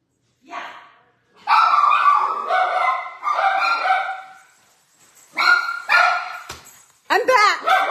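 Small pet dogs bark and yip in close, loud bursts, with pauses between them and a short whimpering run of yips at the end.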